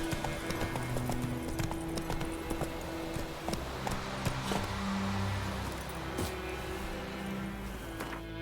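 Roach, the horse in the video game The Witcher 3, trots along in a steady clip-clop of hooves over a low rumbling game backdrop, near and continuous throughout.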